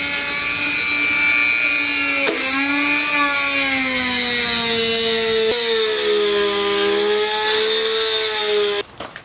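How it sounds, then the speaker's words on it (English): A Dremel rotary tool fitted with a spiral saw bit whines at a high, steady pitch while cutting a thin slot, dipping briefly as it bites, then stops near the end. "I'm going to be using a spiral saw on my Dremel tool. So I can cut a really thin slot right here"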